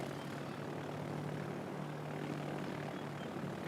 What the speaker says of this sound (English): we'll use some torpedo aircraft now